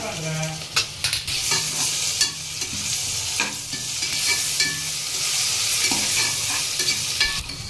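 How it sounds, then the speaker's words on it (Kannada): Ginger garlic paste fries in a pan while biryani is being made, a close, loud, continuous sizzle broken by repeated stirring scrapes and knocks of a spoon, no talking. "ಶುಂಠಿ ಬೆಳ್ಳುಳ್ಳಿ ಪೇಸ್ಟು ಹಸಿ ವಾಸನೆ ಹೋಗೋ ತನಕ ಫ್ರೈ ಮಾಡ್ಕೋಬೇಕು"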